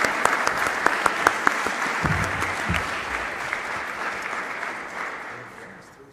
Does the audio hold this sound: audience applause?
yes